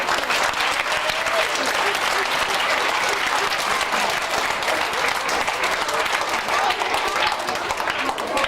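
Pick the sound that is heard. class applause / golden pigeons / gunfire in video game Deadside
class applause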